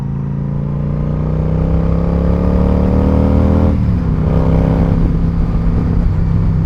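Loud, close engine of a Yamaha XVS 1100 V-Star cruiser motorcycle revving up with rising pitch, then dropping back to a deep rumbling idle.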